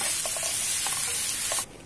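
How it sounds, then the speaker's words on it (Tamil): Chopped onions sauté in sesame oil in a pan, giving a steady, close sizzling hiss with faint stirring clinks. The hiss cuts away abruptly near the end. "இப்போ நறுக்கி வச்ச வெங்காயத்தை போட்டு நல்லா வதங்கட்டோங்க."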